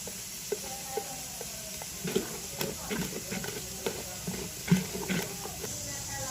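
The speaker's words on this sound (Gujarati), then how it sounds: "ખીરાની અંદર અડધી ચમચી સોડા અને એને સરસ રીતે ફેટી લઈશું" Idli batter with half a spoon of soda beaten in a bowl, giving scattered spoon clinks and wet stirring strokes over a constant background hiss, close and moderately loud.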